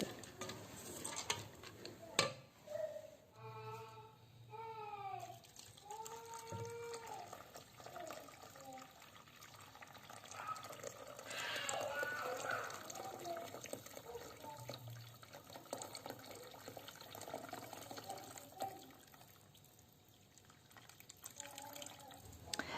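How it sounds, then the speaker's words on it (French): Hot water is poured into a cooking pot holding a fava bean purée for bissara soup, a faint, continuous liquid trickle and splash in a kitchen, with some brief quiet talking at the start. "j'ajoute par la suite de l'eau chaude"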